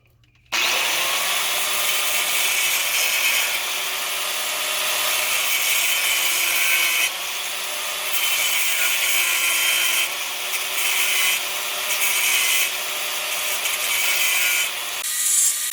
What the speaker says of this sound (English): I'm just taking off tiny bits of metal each pass that I do with this cutting wheel.